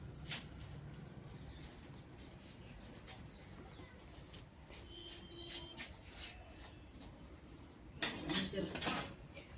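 Pots and utensils being scrubbed by hand, faint scattered clinks and scrapes of metal dishes that end in a louder clattering burst near the close, with soft background voices and occasional birds.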